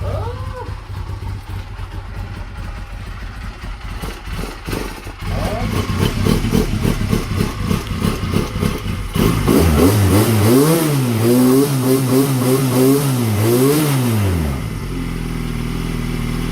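A 2003 Honda Rebel motorcycle engine with loose intake manifold bolts idles with a close, throbbing chug and then revs up and down in several rising and falling throttle blips.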